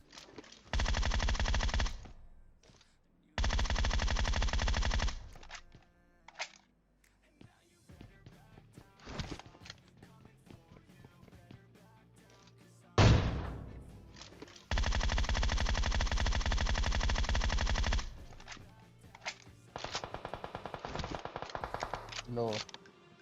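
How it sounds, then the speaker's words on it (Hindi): Automatic weapon fire in PUBG Mobile comes in long sustained bursts, with loud repeated volleys separated by quieter stretches holding single shots, clicks and game sounds, plus faint talk underneath. "यहां पे मैं अंधा गोली चला रहा हूं"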